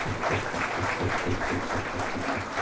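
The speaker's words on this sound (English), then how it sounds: "could we have a huge round of applause for the eminent jury that we have?" An audience applauds the jury at an event, a steady, fairly faint wash of clapping that holds evenly throughout without any voices standing out.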